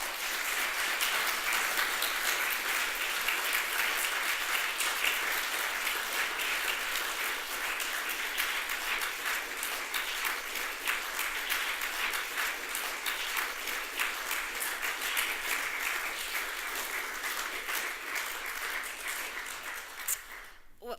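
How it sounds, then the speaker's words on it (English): A lecture audience gives a long, steady round of applause, dense clapping that fills the room for about twenty seconds before trailing off at the end. "many thanks for that great and thoroughly well-deserved round of applause"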